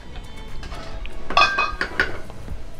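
A metal lid set onto a pot of clams cooking with tamarind and coconut, giving a few light clinks and a louder clatter in the middle against a soft cooking hiss.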